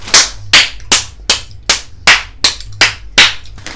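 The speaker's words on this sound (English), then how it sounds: "I give you the biggest applause that I can with my only two hands" Steady hand clapping from one person applauding protesters, ten sharp claps in an even rhythm, close and loud with no talk over them.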